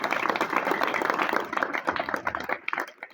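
An audience at a village ceremony honouring local youths bursts into brisk, dense clapping close by, loud at first and then thinning out and tapering off toward the end.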